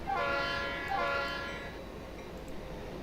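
A Penn Central Alco C630 diesel locomotive in the Trainz game sounds two loud horn blasts back to back, the second fading out over a steady engine rumble.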